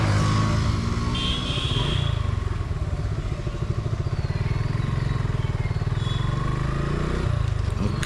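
A Suzuki Gixxer mono single-cylinder motorcycle starts and settles into a steady, rhythmic idle thump, loud and close, with a faint chirp of birds in the background.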